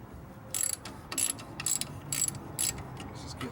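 Four or five short bursts of rapid metallic clicking come from a ratchet turning a 10mm socket on a swivel and 6-inch extension, close and crisp, separated by brief pauses.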